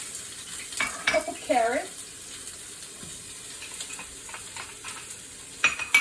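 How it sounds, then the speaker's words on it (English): Onion, carrot and celery sauté in a pan with a soft sizzle and a few stirring scrapes, heard close under a person talking, with brief clatter near the start and end. "we're going to saute about a cup of onion"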